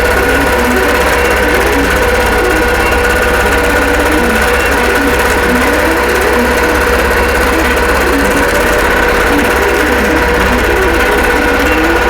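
Sewing machine stitching across a quilt block, a steady loud mechanical hum with rapid rhythmic needle clatter running continuously without pause.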